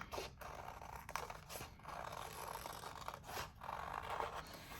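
Scissors snip and crunch through paper in several uneven cuts, cutting out a circle for a paper lantern, close and fairly quiet, with no talking.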